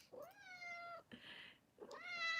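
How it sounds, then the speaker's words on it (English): A house cat gives two long, clear meows close by, each rising then falling in pitch, separated by a short breathy pause in a quiet room. "that's when she meows"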